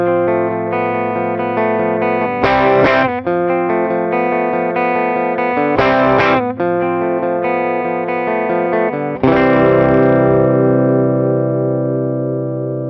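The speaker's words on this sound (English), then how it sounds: "now we're gonna do it with the compressor." Electric guitar played through a compressor pedal: evenly loud picked notes and chords with several sharp strums that barely jump above the rest, then a final chord held and slowly decaying, close and unaccompanied.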